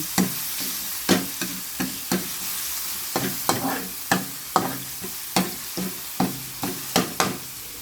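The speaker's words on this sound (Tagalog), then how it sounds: "Nilagay ko na po yung bawang. Gisa-gisa lang." Garlic is sautéed in hot oil in a pan for mung bean stew, a constant sizzle broken by a rhythmic series of sharp spatula scrapes and knocks roughly every half second.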